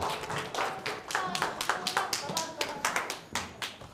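A small group at a youth church service claps, a quick run of fairly soft, even hand claps at close range.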